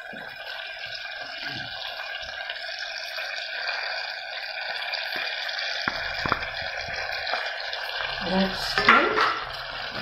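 Flour spooned into bubbling butter in a pan and stirred, giving a soft continuous sizzle with light scraping and a few clinks of the utensil toward the end.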